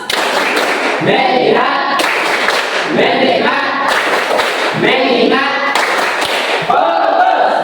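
Students in a classroom run through the tepuk fokus routine, crisp unison claps in repeated rhythmic patterns interleaved with the class chanting in chorus, loud and close.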